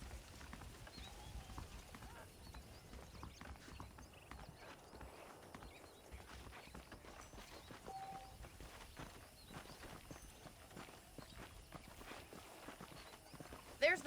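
Horses clip-clop at a trot in the Red Dead Redemption video game, with rhythmic hoofbeats under steady game ambience while a voice talks over them.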